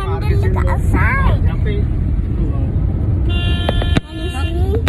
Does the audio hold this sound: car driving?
yes